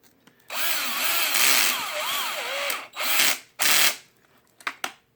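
A power tool works screws on an HPI Baja / X-maxx RC model. A loud, continuous whirring drive is followed by a few short bursts as the clutch slips and disconnects to avoid over-torquing, ending in brief clicks.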